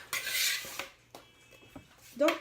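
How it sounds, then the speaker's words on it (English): A whisk scrapes and rattles against a bowl of marshmallows in a home kitchen, a few short, close clattering strokes separated by quieter gaps. "This is gonna be marshmallows in a bowl. Whisk."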